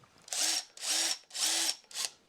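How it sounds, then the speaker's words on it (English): A cordless power drill on a construction site spins up in four short bursts, each a loud, close, high whine with a brief rising start, separated by short pauses, and no talking. "It's really a powerful drill."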